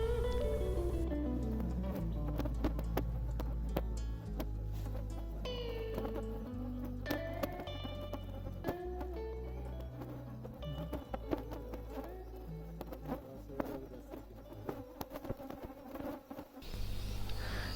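Insects, flies and mosquitoes buzzing at night at Pansli Dhaank, a hot outdoor sleeping spot, with a faint continuous drone, scattered close buzzes and clicks, and a low rumble underneath; quiet overall.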